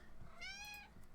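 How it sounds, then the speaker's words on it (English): A house cat lets out a loud, drawn-out meow close by, a single rising and falling cry over low background hum. "She's a screamy cat."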